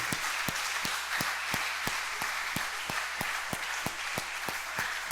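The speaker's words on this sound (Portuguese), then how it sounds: "Vamos aplaudir o Senhor por sua vida." Church congregation clapping in a steady, rhythmic beat, sharp evenly spaced claps about three per second over a soft room wash, fairly quiet and without talk.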